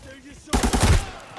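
Automatic gunfire in the shooter game Arena Breakout, a short loud burst of rapid shots starting abruptly after a moment of quiet and fading out within a second.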